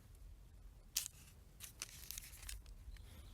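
Paper is folded and crinkled around a fish before it goes into foil. The sound is quiet, close-up rustling with a few sharper crackles and tearing sounds and no voices.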